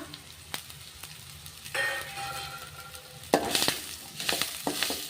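Ginger-garlic paste and curry leaves fry in a pan for drumstick palya, giving a continuous close sizzle. Metal spoon scrapes and clangs against the pan come in a few sharp strikes.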